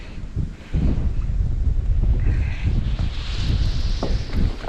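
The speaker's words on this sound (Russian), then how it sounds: "Ветер вообще ужас как дует." Strong autumn wind on a Siberian river buffets the microphone from a boat in a steady low roar, gusting throughout with some faint rustling.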